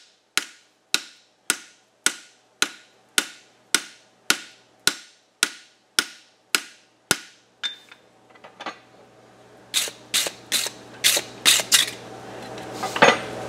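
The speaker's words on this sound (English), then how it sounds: "I'm going to come right in here with my round side of my hammer, start it there" A hammer's round face strikes a horseshoe to form the bevel, about fifteen sharp ringing blows at an even pace, then a short pause with scraping before a faster, irregular burst of strikes.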